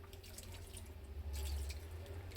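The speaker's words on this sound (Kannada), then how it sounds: "ಸ್ವಲ್ಪ ನೀರು ಹಾಕ್ಕೊಂಡು ಕಲಿಸ್ಕೊಳ್ಳಿ" Water trickles and pours softly into a flour dough mix for shankarpali, a quiet, steady splash that grows briefly fuller midway.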